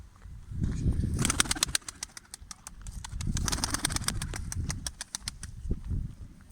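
A flock of Seferli pigeons takes off and flies together in the wind, their wings producing rapid bursts of sharp clapping flutters over a low rumbling wind, close and moderately loud.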